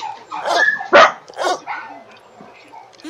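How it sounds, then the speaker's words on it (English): Dogs bark in The Sims 3 during a burglary scene at a house: several sharp, close barks and yips come in quick bursts over about three seconds, fairly loud, with a few quieter whimpers between them. "My goofy dogs."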